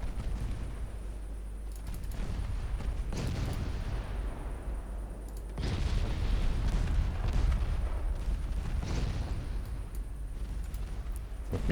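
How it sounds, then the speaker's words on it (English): Torpedo explosions in the naval warship game Ultimate Admiral Dreadnoughts: deep rumbling booms with a heavy low-end roar, a second louder blast swelling midway and sustained rumble trailing on, no voices. "Oh, torpedoes got blown up."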